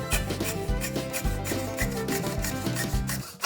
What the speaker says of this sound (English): we're just going to saw through